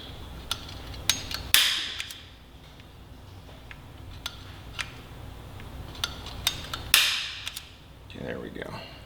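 A hammer strikes a punch to dimple a motorcycle part for drilling, with two sharp, loud metallic cracks a few seconds apart and a scatter of lighter taps and handling clicks between them.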